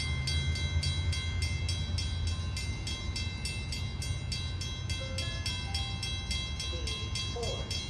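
A Long Island Rail Road train nears a grade crossing with its gates lowering, a steady rumble of wheels and a rapid, regular bell-like ringing running throughout, loud and continuous, with faint tonal hints of a horn near the end.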